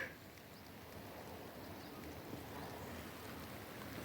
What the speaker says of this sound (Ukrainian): хочу показати, який же ж шпарить дощик